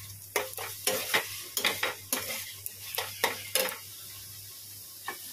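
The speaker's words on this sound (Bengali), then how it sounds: "শুক্তোটাকে একটু টেলে নেবো কড়াতে" Shukto being fried and stirred in a kadai: a rhythmic series of about a dozen scraping strokes of a spoon against the metal over a soft sizzle, close and clear, with no talk.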